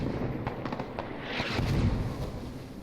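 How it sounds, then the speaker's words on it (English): Mortar shelling in the tactical shooter Squad rumbles as a cluster of dull, booming impacts and crackling blasts, heard at a distance through a continuous low roar of battle. "We can mortar that tab again. Let's keep shelling the tabs out."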